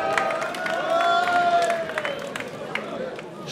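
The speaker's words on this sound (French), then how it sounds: "On peut applaudir son passage s'il vous plaît." Audience applause and cheering at a French rap battle event, a broad crowd clatter with a whistle or shout over it, fairly loud and sustained for a few seconds.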